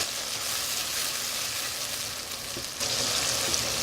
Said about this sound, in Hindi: टमाटर को हम नरम होने तक पकाएंगे।